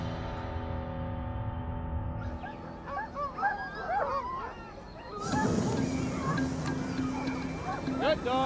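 On frozen terrain near Fairbanks, Alaska, a dog whimpers and yelps in rising, wavering cries, then barks, with a person talking alongside and a wind-like rush joining midway.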